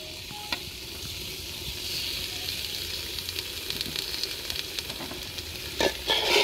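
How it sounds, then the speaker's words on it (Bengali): Cauliflower, carrot and potato sautéing in a pan for khichuri give a steady soft sizzle with occasional stirring scrapes and clinks, close and moderate in level. "সবকিছু খুব ভালোভাবে কষিয়ে নিব।"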